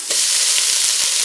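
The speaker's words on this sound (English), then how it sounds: "We're going to toss in a can of corn," Drained canned corn tumbles into a pot of simmering cheesy meatball soup, a sudden splashy hiss that settles into a steady close sizzling wash with a few soft knocks.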